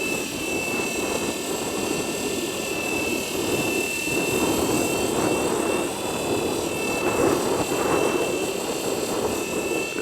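A 230 S V2 RC helicopter flying outdoors in cold wind, its rotor blades giving a steady, loud whirring drone with a high whine, holding for the whole stretch with only slight swells in level.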